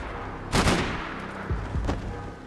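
Gunfire from an Uzi in the video game Max Payne 3: a loud burst of rapid shots with a short tail, then two weaker bursts about a second later.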